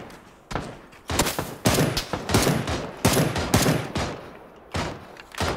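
Gunfire in the battle-royale game PUBG: repeated loud bursts of shots, some rapid automatic volleys, crack in near succession across the stretch with brief gaps, no talk.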